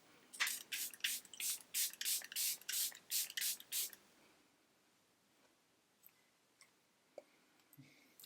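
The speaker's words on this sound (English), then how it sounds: "I am going to set my face with the Airbrush Flawless Setting" About eleven quick, hissing bursts of Airbrush Flawless makeup setting spray in steady succession, close and crisp, followed by quiet with a few faint clicks.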